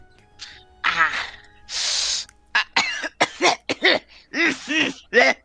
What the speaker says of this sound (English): While you're having that coughing fit